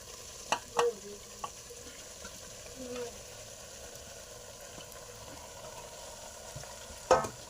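Dhokla pieces sizzle quietly in a hot spiced tempering as they are stirred, a faint steady frying hiss broken by a few sharp spoon clinks against the pan.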